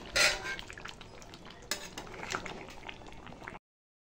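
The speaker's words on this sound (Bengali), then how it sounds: "আলুটাও এবার আমি মাংসের সাথে মিশিয়ে দেবো" Potatoes folded into spiced meat in a pan, with a spoon clinking and scraping against the metal over a soft bubbling simmer, close and fairly quiet, ending abruptly.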